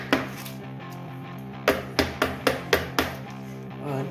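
A pan of fudgy chocolate brownie batter is tapped against a hard surface. Two sharp knocks come early, then a quick run of five evenly spaced taps follows after a pause, close by over a faint background hum.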